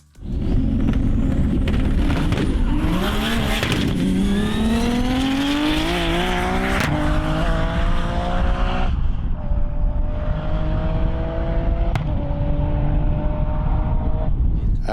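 A 1000+ horsepower stick-shift Nissan GT-R races down a runway at a GT-R Challenge event, its engine screaming loud and close through rising gear pulls, then fading as it runs away into the distance.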